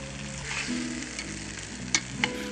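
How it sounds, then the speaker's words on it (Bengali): Fried potatoes sizzle in hot oil in a pan for a rui fish curry, stirred with soft scraping and a couple of sharp utensil clinks near the end. "তারপর লাগবে ভেজে রাখা আলুগুলো আলুগুলো মোটামুটি এক থেকে দু মিনিট একটু নাড়াচাড়া করতে হবে"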